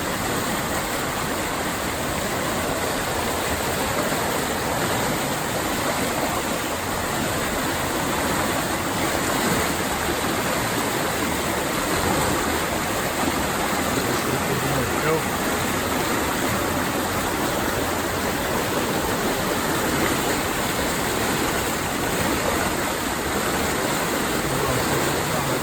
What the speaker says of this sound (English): This water's strong.